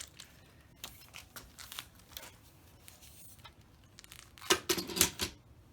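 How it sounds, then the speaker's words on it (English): Scissors snip through craft material for a spring wreath, a run of light crisp cuts and crinkles followed by a louder, denser burst of cutting near the end, close by with no talking. "sometimes you have to cut it twice, especially for a big one like this"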